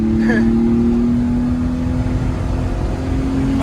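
A Ford Ranger pickup truck engine drones steadily and loud as it accelerates, with a rising tonal whine, a continuous close rumble from start to end.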